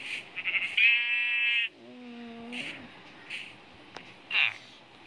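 Cartoonish animal bleats and moos from the farm video game Cow Crusher sound over a busy game soundtrack, one long sustained call followed by a lower sliding one, with shorter chirpy effects after.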